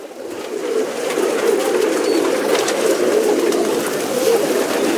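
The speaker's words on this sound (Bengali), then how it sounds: "এই একটা পায়রা দেখাচ্ছি" Pigeons at a home loft coo continuously in a dense, overlapping murmur, loud and close, with no voices.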